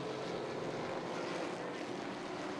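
Limited stock cars race around a track, a dense continuous roar of several engines blending into a loud, even wash of noise with no voices.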